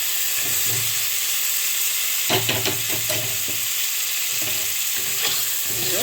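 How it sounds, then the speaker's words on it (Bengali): Potatoes sautéing in a masala for pabda fish curry, a loud, continuous sizzle with repeated spatula scrapes and stirring strokes across the pan, no one talking. "ভালো করে আবার একটু জল দিয়ে কষাতে হবে"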